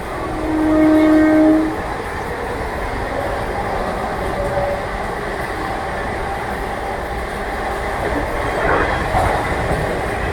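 The Sai Nagar Shirdi Express horn sounds briefly near the start, then a steady loud rumble of the train rolling along the tracks toward Kazipet Junction continues throughout.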